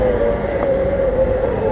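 A steady electric motor whine from a YikeBike electric folding bike holds one high tone throughout, loud and close, over a rough rumbling drone with no voices.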